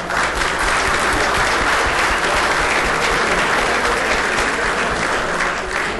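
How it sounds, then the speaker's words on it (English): An audience applauds steadily and densely at a ceremony for a centennial celebration, a continuous wash of clapping hands filling the room without voices. "A big round of applause."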